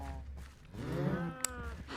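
Cows in the farming video game MechStation give one low, drawn-out moo up close over a faint background hum, with no one speaking.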